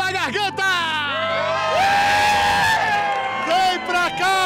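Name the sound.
crowd shouting and cheering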